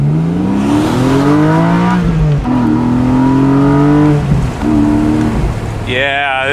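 A Porsche 718 Boxster 25 Years with its flat engine rises in pitch under throttle, a close, loud, harmonic drone climbing and dropping through several pulls, with a brief sharper tone at the end.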